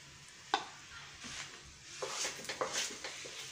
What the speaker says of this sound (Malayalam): കുറച്ചുകൂടിയും നെയ്യ് ഒഴിച്ചു കൊടുക്കുന്നു.